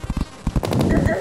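Gunfire in the Terraria video game comes as quick bursts of sharp, punchy shots, several in succession then a denser rattling stretch, with excited voices talking over it.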